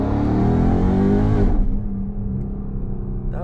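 A Hellcat car shifting hard under acceleration: a loud, close engine roar that drops sharply as the gear changes, then continues at a lower, rougher pitch.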